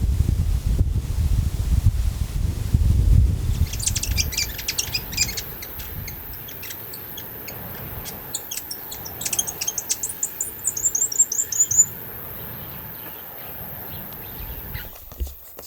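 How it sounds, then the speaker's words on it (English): Small birds sing outdoors on Salvation Island: high, quick chirps and short trills in a run of calls, after an opening of wind buffeting and rustling. "they're just the cutest little birds. They just sit there and clean themselves and sing"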